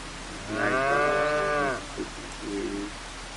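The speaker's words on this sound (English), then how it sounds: "Oh, you heard my cows?" Farm cows moo in one long, loud, drawn-out call, followed by a shorter, quieter low moo a moment later, heard plainly with no talking over them.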